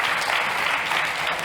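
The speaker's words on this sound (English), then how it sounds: "Ladies and gents, a big round of applause for Vitans." Audience applause fills a startup pitch competition hall, a dense steady burst of clapping from many hands with no voices over it.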